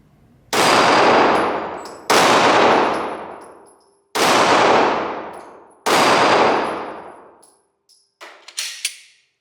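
Glock 17 9mm pistol fired at an outdoor target: four loud, evenly spaced gunshots, each with a long ringing decay, followed by a few quieter metallic clinks.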